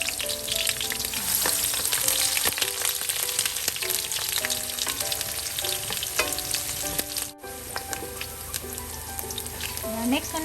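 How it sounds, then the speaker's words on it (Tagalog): Onion fries in hot oil for a chicken curry in coconut milk, making a dense, continuous close sizzle with occasional stirring scrapes. "Maglagay na po tayo ng mantika. Ayan, inuna ko po muna yung onion."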